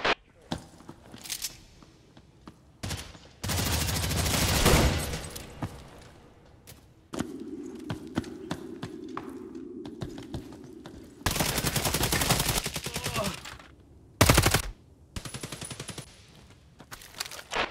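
Gunfire in the Hired Ops shooter game: several loud bursts of close machine-gun fire separated by quieter gaps with single shots, clicks and footsteps, plus a low steady hum in the middle.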